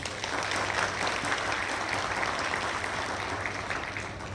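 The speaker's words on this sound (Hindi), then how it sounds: "मैं सभी श्रोताओं से निवेदन करूंगा कि हमारे भिलाई रत्नों के लिए 2 तालियां हो जाए।" A crowd of listeners at a public event in Bhilai claps steadily for honoured local achievers, dense and continuous applause filling the whole stretch with faint low hum beneath.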